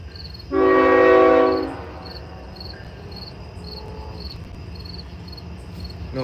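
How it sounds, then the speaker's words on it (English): A train passing near a riverbank sounds a loud, single horn blast lasting about a second, then fades into a low rumble while crickets chirp steadily throughout. "Here comes a train too"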